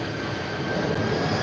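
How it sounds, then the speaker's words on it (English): A Hercules military transport plane passing overhead gives a continuous broad, loud engine roar and rumble that holds steady throughout, with no voices. "we got a Hercules. Yeah. These guys are flying over every half hour."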